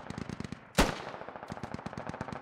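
Gunfire in the Squad Ops video game: a steady, rapid automatic burst runs throughout, broken by one sharper, louder shot near the start, with a faint voice underneath.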